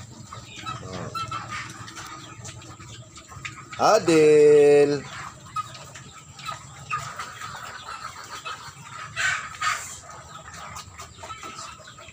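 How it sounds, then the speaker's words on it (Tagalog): Chickens feeding together, with scattered soft clucks and one louder burst of squawking partway through, close by, while a person speaks briefly. "Kasama mga manok."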